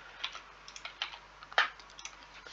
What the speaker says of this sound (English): typing old and typing new password